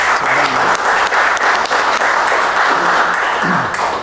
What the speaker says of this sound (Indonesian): bolehlah kita kasih tepuk tangan buat mereka